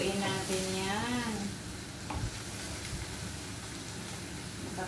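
Green beans adobo being stirred in a frying pan, a steady broadband sizzle filling the clip, with a brief voice at the start and a sharp scrape of the utensil midway.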